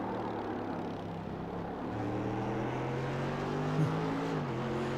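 Race cars in an iRacing sim race at Daytona give a sustained engine drone as they drive into the turns under hard braking. A rising and falling engine tone runs steadily at moderate level.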